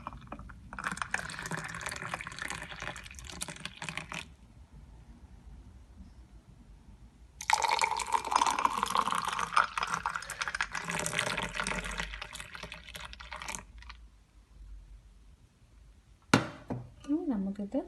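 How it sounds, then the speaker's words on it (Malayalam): Homemade pineapple juice pours into a glass of ice cubes in two long, steady streams with a rising fill tone, separated by a pause, and a short clink comes at the end. "ഇനി നമുക്കിത് ഒരു ഗ്ലാസ്സിലേക്ക് ഒഴിക്കാം. ഞാൻ ഓൾറെഡി ഐസ് ക്യൂബ് ഇട്ടിട്ടുണ്ട്."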